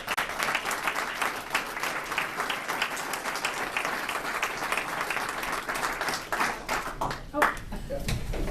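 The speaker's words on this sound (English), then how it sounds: "I think there should be a round of applause." Dense, steady applause fills the room from an audience at a defense security cooperation launch event, with many hands clapping continuously at a moderate level, sounding a little distant.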